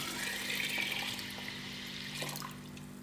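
Steady pouring of a jug of water into a cooking pot of whole masoor lentils, a continuous gushing hiss splashing into the container with a faint low hum beneath it.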